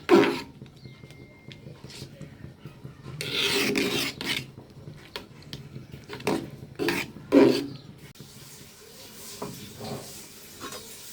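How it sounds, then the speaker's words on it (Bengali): Khichuri with cumin powder being stirred in a pot: loud, uneven raspy scrapes in bursts, with a voice talking faintly between them. "দিয়ে ভালো করে নেড়ে নেব জিরে গুঁড়াটা দিলে সুন্দর বাসনা করে"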